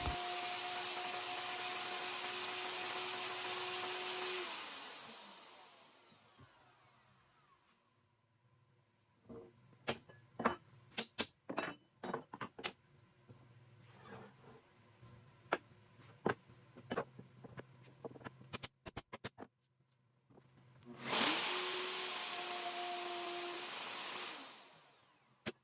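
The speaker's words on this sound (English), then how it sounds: "I got my plunger router set up with the fence at 1 inch center, put a 1/2 inch oval bit in it" A plunge router with a half-inch oval bit cuts a groove in an end grain butcher block, a loud high whine spinning up and down at each end, with scattered clacks and knocks between runs.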